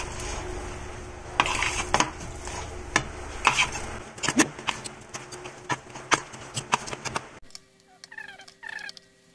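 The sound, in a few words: stirring banana ball mixture with coffee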